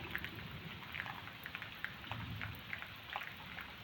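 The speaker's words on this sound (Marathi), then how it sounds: "पाऊस तर बघा किती पडतोय आणि गरजतोय पण भरपूर" Heavy first-of-season rain pours steadily on a village farm, a dense continuous wash with scattered droplet patters close by; thunder is not clearly picked out beneath the downpour.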